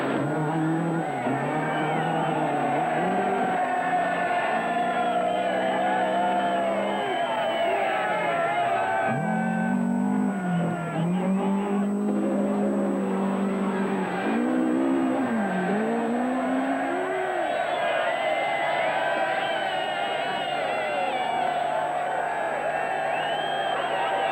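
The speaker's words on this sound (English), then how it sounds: "fueled by the roar of engines and the cheers of thousands gathered at their favourite vantage point" Rally car engines roar and rev through a night forest stage, pitch rising and falling as the cars pass, with a dense wash of crowd and other noise beneath. A voice speaks over part of it.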